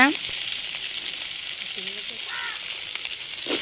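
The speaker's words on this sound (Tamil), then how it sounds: "வெங்காயம் பூண்டு சேர்த்துக்கோங்க சேர்த்து நல்லா வதக்கிக்கோங்க" Onions and dried red chillies sauté in oil in a pan for village-style tomato chutney, giving a steady, moderate sizzle throughout with a few brief, faint voice-like tones.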